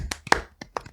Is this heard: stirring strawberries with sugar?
no